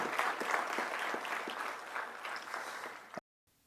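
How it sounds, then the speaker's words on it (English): Crowd at a ceremony for promoted police officers and staff gives steady, fairly dense applause for about three seconds before it cuts off abruptly. "Let's give all of our professional staff and all of our ranking officers a big round of applause"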